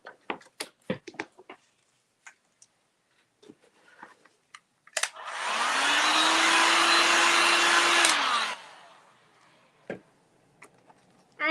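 A hair dryer blows steady and loud for about three seconds to set gingerbread house icing, starting and stopping abruptly, with scattered small clicks and taps before and after.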